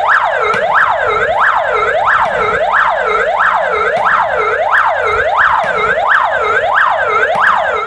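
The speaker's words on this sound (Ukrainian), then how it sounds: "Хвилина мовчання та звук сирен пожежних авто." Fire engine sirens wail together in steady repeating rises and falls, loud and continuous with no voices, sounding in Khmelnytskyi during a minute of silence honoring Chernobyl disaster liquidators.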